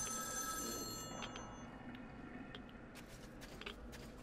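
Telephone rings in the Metro Exodus video game, a steady electronic bell tone repeating at a moderate level over a low ambient background, with faint clicks toward the end.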